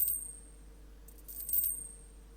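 A short stream alert chime for a 1,000 bits cheer plays faintly, with a bright, glittery burst of high tones partway through over a quiet steady hum.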